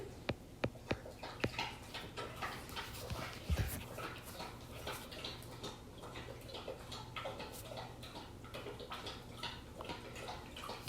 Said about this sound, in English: Can you hear my dog licking or drinking now?